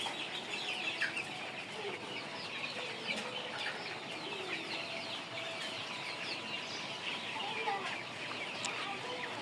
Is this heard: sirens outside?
no